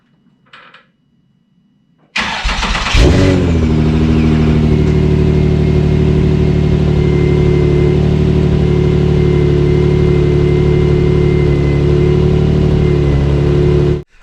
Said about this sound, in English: I'm going to start the car soon